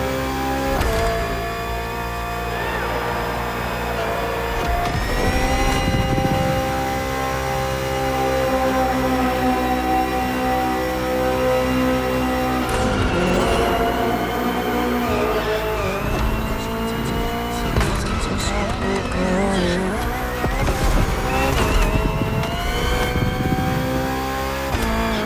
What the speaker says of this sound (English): The BMW M Hybrid V8. What a beast.